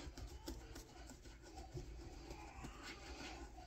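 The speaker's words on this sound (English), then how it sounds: "Just really rub it in." Paper towel rubs polyurethane stain into a Batman cowl in steady, faint scrubbing strokes, a soft rasping friction heard up close with low background noise.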